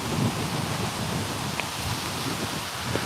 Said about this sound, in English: My God, is it windy?